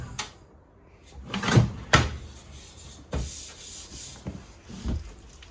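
A big drawer below the oven in a 2024 Forest River Salem Hemisphere 271RL RV kitchen slides open and shut, giving several close sliding thuds and knocks over a quiet room.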